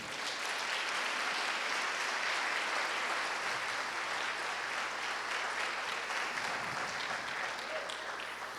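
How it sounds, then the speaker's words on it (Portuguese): A church congregation applauds during a sermon, a dense sustained wash of clapping from many hands that holds steady for several seconds before thinning slightly near the end. "Aplauda o Senhor Jesus."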